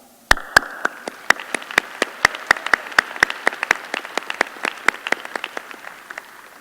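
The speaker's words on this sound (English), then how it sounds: "give you guys a round of applause" Applause at a 2016 early college high school graduation ceremony: a small number of crisp, separate hand claps, fairly loud and close, in an uneven rhythm that thins toward the end.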